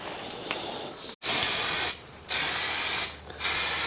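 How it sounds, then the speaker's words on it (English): Aerosol spray paint misted onto a BMW E46 330Ci part in an open, ventilated space, heard as three long, loud, close hissing bursts separated by short pauses. "just misting it on, build it up really gently"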